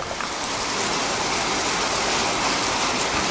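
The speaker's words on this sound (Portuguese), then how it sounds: "acabou de cair esse toró" A heavy downpour hisses steadily and loudly, a dense, continuous roar of rain with no break throughout.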